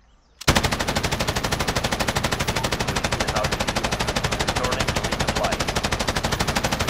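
Loud, close automatic gunfire from the Call of Duty: Modern Warfare video game bursts in after a brief quiet start and continues as one unbroken, rapid rattle of shots to the end.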